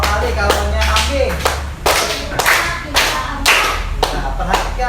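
Students clap their hands in a classroom counting game, sharp claps landing in small grouped bursts about every half second, with voices talking faintly underneath.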